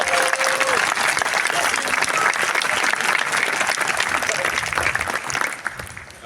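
An audience breaks into loud, dense applause, sustained clapping from a crowd that holds steady for several seconds before starting to thin out at the end.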